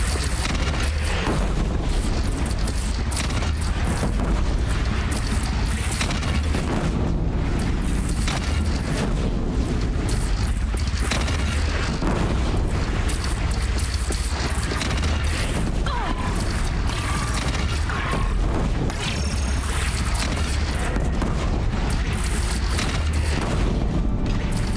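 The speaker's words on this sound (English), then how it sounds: "They only have one cannon!" Cannon fire and explosions in the video game Horizon Zero Dawn, a dense, loud and continuous barrage of booms and blasts with mechanical clatter, no clear talk.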